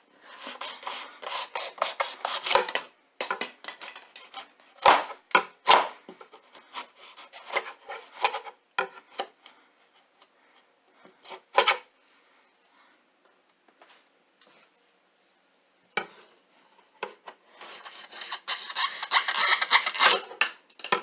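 A serrated bread knife scrapes and rasps across a damaged hollow door being repaired, coming in bursts of scraping strokes with pauses between, close and fairly loud, with no talking.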